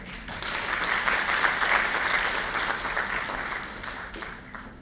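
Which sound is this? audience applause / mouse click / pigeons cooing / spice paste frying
audience applause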